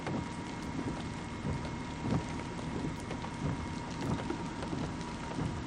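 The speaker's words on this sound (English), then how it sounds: "It's pouring rain outside, that's why I'm in the car now." Heavy rain drums steadily on a car roof, a dense continuous patter with scattered louder drops and no voices.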